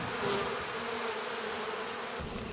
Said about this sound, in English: A lot of bee dancing going on. Like I said, a lot of bees flying, but they're not particularly aggressive.